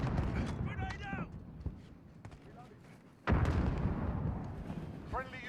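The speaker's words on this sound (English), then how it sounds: "Grenade out." A grenade blast in Modern Warfare online gameplay: a sudden loud boom cuts in midway, followed by rumbling debris, while voices chatter before and after.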